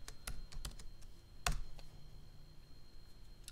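A computer keyboard is typed on a few times at close range, with sparse, sharp key clicks and one louder tap, set against quiet room noise and no voices.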